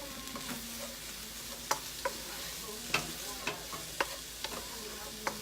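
Minced garlic sizzling in a pan for cauliflower shrimp fried rice, a steady hiss broken by sharp intermittent clinks and scrapes of a spatula against the pan, close by and with no talk.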